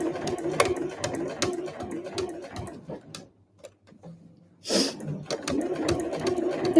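A sewing machine stitches the body of a convenience-store eco bag, starting with backstitching. It gives rapid, rhythmic mechanical ticking in bursts, pauses briefly, then picks up again, close and clear with no one talking.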